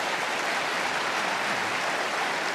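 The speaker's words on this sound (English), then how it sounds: "Hold it. No need to applaud." Audience applause at the 1994 Berkshire Hathaway annual shareholder meeting, a dense, even wash of clapping from a large hall that holds steady throughout.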